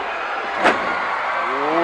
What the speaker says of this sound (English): Walloping shoulder drive, a good one.